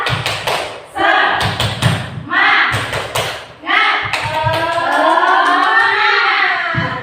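A group claps out a rhythmic tepuk semangat chant, loud close patterns of hand claps and thumps in short bursts, mixed with voices chanting along.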